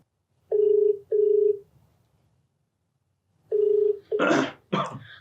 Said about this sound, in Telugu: మరి రాధిక కాల్ చేస్తాను.